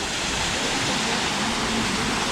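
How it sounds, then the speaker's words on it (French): Steady broadband rush of a waterfall inside the tropical dome at Beauval Zoo, continuous and fairly loud, a constant hiss with no breaks and no voices. "Une belle cascade."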